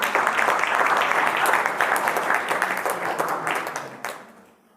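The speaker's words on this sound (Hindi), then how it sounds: "ताली बजा दो इनके लिए पहले।" Audience applause for a quiz contestant at a Constitution Day general-knowledge competition in a government higher secondary school, a dense steady clapping from a crowd that carries on for several seconds, then fades out near the end.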